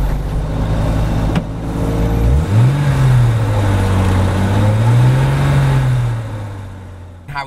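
A bright red Jaguar E-Type coupe is driving around town, its engine humming steadily and close, with a rising rev and shifting pitch midway before the sound tapers off near the end.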